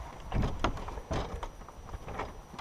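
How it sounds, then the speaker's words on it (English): Someone rattles and pushes at the locked door of an old fire tower, built in 1938 and abandoned in 1957, in the mountains, making a few dull knocks and scraping clunks close by. "Door's locked."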